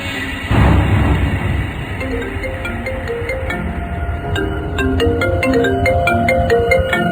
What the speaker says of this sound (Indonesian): aku terbangun oleh suara dering handphoneku